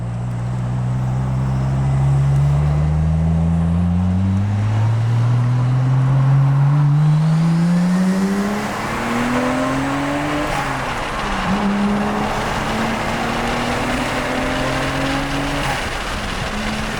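A modified Nissan Skyline GT-R R33 in second gear revs hard up to its redline, a loud close engine note climbing steadily in pitch, then dropping at the shift and climbing again.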